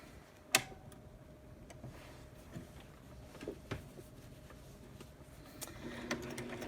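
A sewing machine stitches a long seam along a fabric rectangle for a headband, running as a faint, steady ticking hum with scattered soft clicks in a quiet room.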